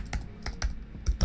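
Quick typing on a computer keyboard: five crisp, close key clicks in an uneven rhythm over about a second, with no talking.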